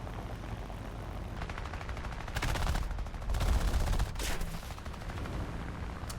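Bursts of rapid MG 151 aircraft cannon fire in War Thunder, several short volleys in a row over a constant engine drone.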